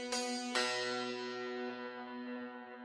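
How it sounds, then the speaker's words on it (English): A sampled hammered santur from the East West Silk library rings out with two struck chords in quick succession, bright metallic strings shimmering and slowly decaying, fairly soft and alone. "And so this is a Santur from East West."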